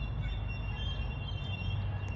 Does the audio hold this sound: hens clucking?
no